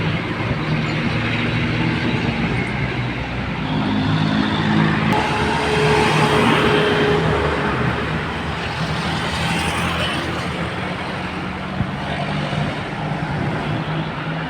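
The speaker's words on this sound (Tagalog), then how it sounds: "Gumagapang ang mga sasakyan sa taas ng ahon." Road traffic crawls slowly up a hill in Davao City, a steady dense rumble of engines from cars and heavier vehicles, continuous and fairly loud without pause.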